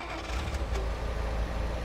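A car engine starts up in the road trip game Road to Guangdong, settling into a low, steady rumble with a few light clicks near the start and no voices.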